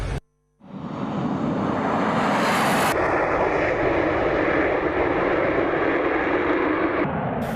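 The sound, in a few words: Russian Su-35 fighter jet flying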